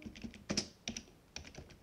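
Keys tapped on a computer keyboard while a password is entered in a terminal, several quick separate clicks in short bursts, close and clear with no talking.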